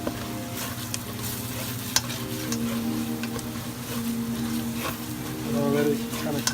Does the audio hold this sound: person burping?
no